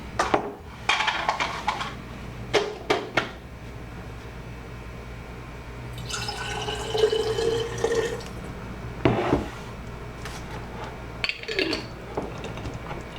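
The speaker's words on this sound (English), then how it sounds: "I'm going to fill this also up with water" Water runs into a glass jar in a home kitchen, with intermittent splashing and gurgling bursts, clinks of the container and a steady background hum.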